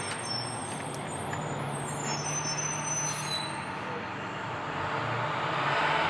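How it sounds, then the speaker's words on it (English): A bus drives past outdoors, a broad rumbling wash of engine and road noise with a hiss of air brakes, moderately distant and swelling slightly toward the end, with faint talk underneath. "So there's a bus driving by."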